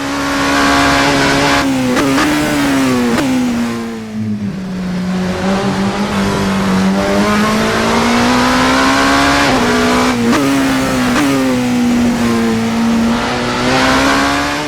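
A Vanwall hypercar mod laps a track in Assetto Corsa, its engine droning loud and close, rising steadily through the gears with quick dips at upshifts and a brief lift for a corner, heard alone.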